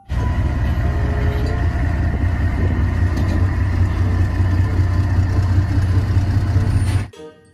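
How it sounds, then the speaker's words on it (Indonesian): Toy steel tank rumbling with a steady, loud low engine drone, held at an even level for about seven seconds before stopping abruptly. "Mobil tank baja, teman-teman."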